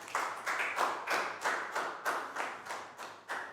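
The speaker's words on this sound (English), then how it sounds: "Big round of applause for Pat." A Year 4 maths class clapping for a classmate, with about a dozen slow, evenly spaced claps that sound like a small group clapping in unison, fairly faint and close.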